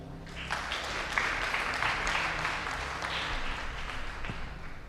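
An audience applauds at a school martial arts demonstration, with steady, dense clapping that holds level for several seconds and has no clear peaks or pauses.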